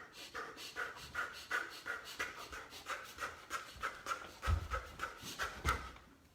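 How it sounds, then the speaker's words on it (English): Rapid rhythmic breathing during exercise, a steady run of quick panting inhales and exhales, close and fairly soft, with no talking. "you speed up the breathing and your movement goes with it"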